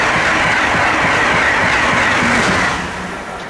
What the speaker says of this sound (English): Train approaching. Please remain behind the yellow safety strip.